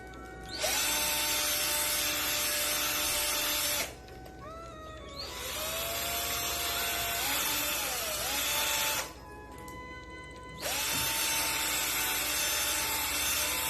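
A power drill bores deeper into a driftwood wand, running in three long, loud, close bursts with a rising whine that slows and dips under load, separated by short pauses.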